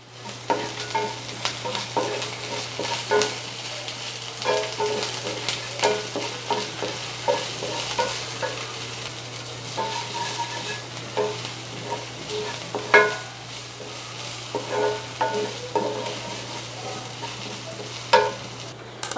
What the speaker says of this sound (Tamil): வெங்காயம் இஞ்சி பூண்டு நல்லா வதங்கிடுச்சு